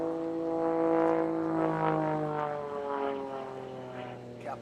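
An Extra 330 SC aerobatic propeller plane flies overhead during an aerobatic competition, its engine and prop giving a distant, wavering buzz whose pitch slides steadily lower as it moves away.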